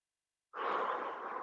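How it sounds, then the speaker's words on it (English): A deep exhale during a guided morning stretch break: a single soft, breathy sigh that starts abruptly after a moment of silence and holds steady, close and fairly quiet. "Last breath here."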